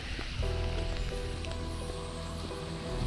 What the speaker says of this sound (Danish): I regnvejr.